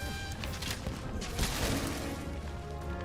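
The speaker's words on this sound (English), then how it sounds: "Those fire explosions are coming from the fact that the bow is just a fire bow" Fire explosions from a fire-element bow in Monster Hunter combat against a Kadachi, a dense continuous burst of crackling blasts and impacts that stays loud throughout amid game music and effects.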